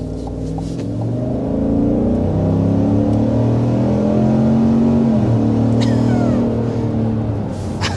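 A 6.2-liter V8 in a GMC Sierra Denali Ultimate pickup pulls hard under full acceleration, its deep exhaust note climbing steadily through the gears and holding loud and close for several seconds.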